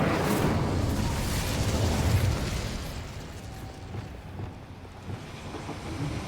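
An Incendio fire spell cast in Hogwarts Legacy, a loud roaring rush of flame that swells over the first couple of seconds, then settles into a lower, steady blustery rumble.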